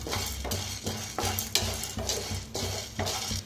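Chana dal dry roasting in a pan, a rhythmic scraping and rustling as the lentils are stirred in regular strokes roughly every half second, close and dry with no talking.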